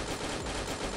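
Rapid automatic fire from an AUG rifle in the mobile battle royale game Free Fire, a dense continuous burst of shots at steady loudness with no pauses.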